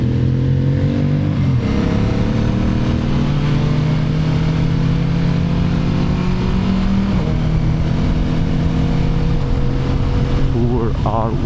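A group of motorcycles crawls slowly uphill, the engine drone steady and close, with a low rumble under the whole stretch and a brief change in pitch near the end.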